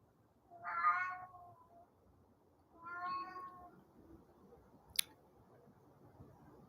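A house cat meowing in the background, two drawn-out meows a couple of seconds apart in an otherwise quiet room, followed by a sharp click.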